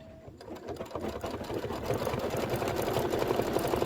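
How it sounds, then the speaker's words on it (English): A machine embroidery sewing machine stitches a decorative outline on a quilted pillow block, a close, continuous fast needle rattle with motor whir that grows slightly louder partway through. "Go ahead and do the decorative stitch outline."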